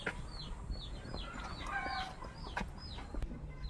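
A chicken clucks repeatedly in short, rising calls, close by and fairly quiet, over a soft background of ambient noise.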